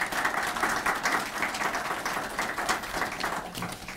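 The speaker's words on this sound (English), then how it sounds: "Please give a warm round of applause for both of our presenters." An audience at a public transit project session applauds its presenters, a strong, steady burst of many hands clapping at close range, pulsing slightly but unbroken throughout.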